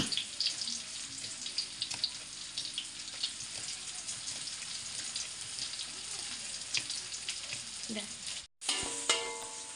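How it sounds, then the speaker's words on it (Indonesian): Leaves fry in a wok while making kecombrang sambal, a steady close sizzle with occasional stirring scrapes, broken by a brief pause near the end. "daun tadi kita masukkan ke wajan juga, kita goreng juga"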